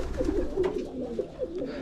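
Pigeons coo softly and repeatedly inside a home aviary, a low rolling murmur of several birds close by with no talk over it.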